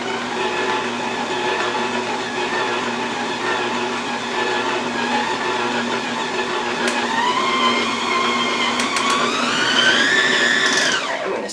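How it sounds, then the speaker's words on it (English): Steady whir of an electric mixer beating molasses cookie dough, a continuous motor drone that rises slightly in pitch near the end, close and alone with no talk. "Now we just want to get this mixed until it's a smooth dough."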